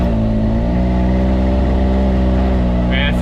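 A modified Can-Am off-road vehicle runs on a dirt road, its engine holding a loud, steady hum with layered harmonics close by, and a brief higher whir near the end.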